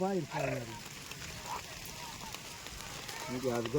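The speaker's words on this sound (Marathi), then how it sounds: "पाऊस मरणाचा पाऊस आलाय पाऊस आला" Steady rain patters in the background, with people talking briefly at the start and again at the end.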